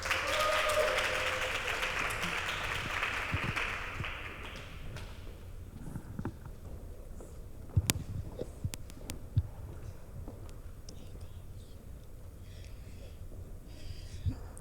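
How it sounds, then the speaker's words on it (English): Applause from an audience at a book launch celebration, loud and sustained for the first five seconds, then fading to a quiet room with scattered bumps and clicks. "please clap it up for Ebonee Debrah."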